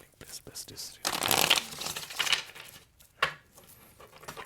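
Tarot cards shuffled by hand in a riffling, fluttering burst, close and moderately loud, with a few lighter card taps before and after.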